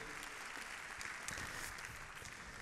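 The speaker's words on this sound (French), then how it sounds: "Madame, monsieur, on vous applaudit" An audience at an awards ceremony applauds, a dense and steady wash of clapping heard from a distance at low volume, with no voices.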